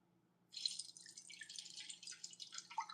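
Liquid poured into a container while making grungy fillers, a clear trickling and dripping stream that starts abruptly and runs steadily, close and fairly soft, with no talking.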